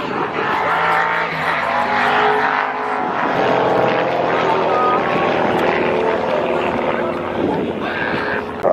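An aerobatic aircraft performs manoeuvres at the Wings Over Wairarapa air show, its loud engine droning and shifting in pitch while a commentator talks over it.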